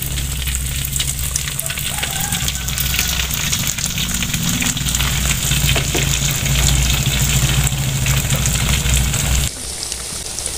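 Chicken nuggets frying in a pan of hot oil, a steady loud bubbling sizzle that runs throughout and drops off abruptly near the end.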